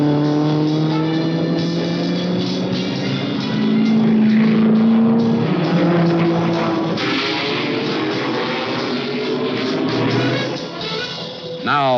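Ford Mark IV race car accelerating at Le Mans, a loud sustained engine roar with rising and shifting tones, heard from a distance with a broad, smeared sound, while a narrator talks over it throughout.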